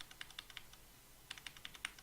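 Computer keyboard keys tapped to trigger hotkeys in a StarCraft Terran game, a string of light, crisp clicks in two quick clusters with a short pause between, faint and close with no talk.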